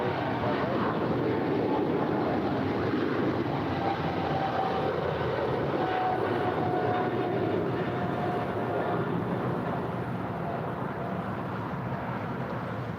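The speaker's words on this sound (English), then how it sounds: "This next departure is Turkish Airlines Flight 12 Echo departing to Istanbul. It's a 777-300ER." A Turkish Airlines Boeing 777-300ER departing Los Angeles International Airport for Istanbul gives a continuous low jet roar, steady and moderately loud from a distance, with faint radio chatter underneath.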